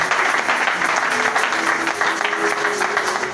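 A church congregation applauding in steady, dense clapping that fills the room, loud and continuous throughout, with a faint tonal hum beneath it.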